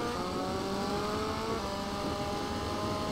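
Motorbike engine in GTA Vice City droning steadily throughout, a continuous whirring hum with faint tonal lines, fairly loud and uninterrupted, with no talking over it.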